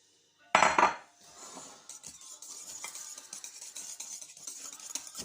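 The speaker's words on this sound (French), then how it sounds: "là je mélange" A utensil clatters loudly against a bowl, then scrapes and stirs steadily as cream for a tropézienne is mixed, the stirring sounds close and moderately loud.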